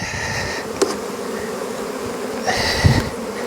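Dense, continuous buzzing of many honey bees close by as a hive box is set onto a hive, with a few light knocks and bumps and louder buzzing swells near the end.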